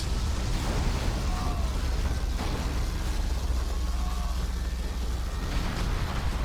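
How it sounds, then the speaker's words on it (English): Carpet bombs and a particle cannon blast in the Generals Evolution real-time strategy game, giving a continuous roar of explosions and rumbling destruction, dense and loud throughout, with no speech. "Carpet bomb on top of a particle cannon from the USA Laser"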